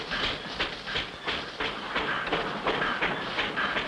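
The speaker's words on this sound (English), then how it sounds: "How do you like this little train, Spinner?" A small cartoon mountain train runs steadily through a Swiss setting, its rhythmic clickety-clack repeating about every half second over a continuous hiss, fairly close and moderately loud with no voices.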